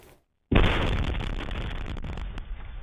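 A bomb blast inside a fertility clinic, caught by a security camera: after a brief moment of silence a sudden loud explosion erupts and rolls on as a sustained roaring burst with crackling debris, fading only slightly toward the end.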